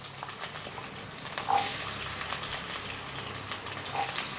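Steady crackling sizzle of small shallots frying in hot oil for brinjal curry, continuous and close, with a slight burst of extra sizzle partway through.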